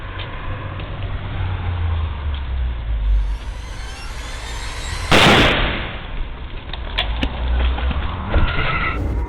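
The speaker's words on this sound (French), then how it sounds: "Puis des coups de feu sont tirés." Gunshots fired at a van parked on a residential street ring out as sharp, loud cracks over a steady background rumble, with one especially strong burst near the middle and a few fainter pops after it.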